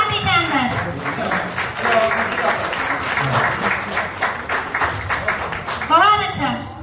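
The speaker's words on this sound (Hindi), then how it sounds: "एक बार आप सभी दोनों हाथ उठाकर उपेंद्र जी के लिए तालियां बजाएं" Audience at a poetry reading gives a poet a round of hand clapping, a dense, steady burst running throughout, with a voice speaking over it at the beginning and end.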